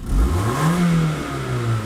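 A 1997 Toyota Celica GT inline four-cylinder engine with a tiny exhaust leak revs up and holds a rising, throaty growl, the pitch climbing and then settling, close and loud with no talk.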